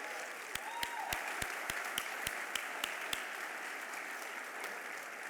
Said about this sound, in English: Yes, you can applaud for yourselves.